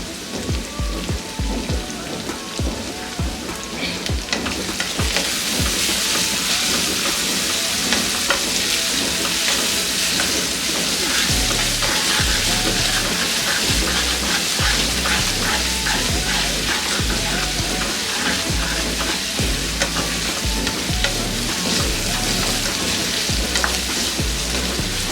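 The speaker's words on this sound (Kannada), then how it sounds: "ಈರುಳ್ಳಿ ಗೋಲ್ಡನ್ ಬ್ರೌನ್ ಆಗೋ ತನಕ ಇದನ್ನು ಇದೇ ರೀತಿಯೇ ಫ್ರೈ ಮಾಡ್ಕೋಬೇಕು." Onions frying in oil with turmeric and salt for North Karnataka masala chitranna, a loud, steady sizzle like rain with frequent stirring scrapes and clatter throughout, and no talking.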